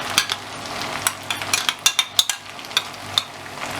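Tomato paste sizzles in a pan for chana masala, with a soft frying hiss under a series of sharp spoon scrapes and clicks against the pan, close and without talk.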